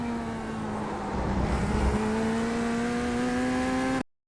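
A race car in iRacing at the Brands Hatch circuit accelerating at full throttle, with a steady loud engine whine rising in pitch through the gear, cutting off abruptly at the end, no talk.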